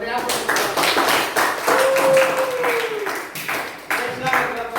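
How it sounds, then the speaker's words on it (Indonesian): Applause from a small classroom group during a presentation, a brief patter of hand claps that mixes with ongoing talk and a whistle-like tone. "Kita beri aplaus."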